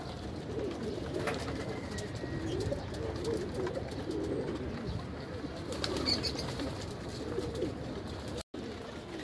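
Inside a loft, a flock of large and young pigeons gives a soft, steady murmur of low cooing with occasional rustling and wing movement. The sound stays continuous and fairly quiet throughout.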